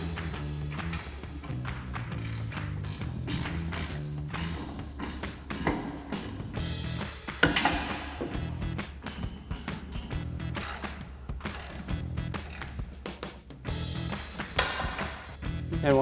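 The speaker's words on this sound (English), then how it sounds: "tightening down those Allen head bolts with a 6mm Allen socket on a ratchet" A ratchet with a 6mm Allen socket tightening Allen head bolts on a roll bar for a RAM 1500 Classic truck: rapid, steady clicking of the pawl with periodic louder clacks, close and continuous, no talk.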